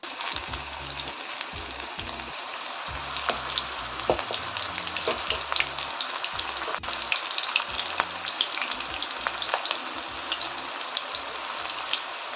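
Moringa flower bhaji frying in hot oil on a home stove, a steady dense crackling sizzle with scattered sharp pops and spits throughout, close and continuous with no voices.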